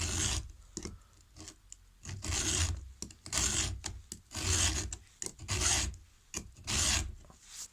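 File sharpening a 1/4 inch pitch chainsaw chain, heard as a rhythmic series of about eight close, rasping strokes separated by brief pauses.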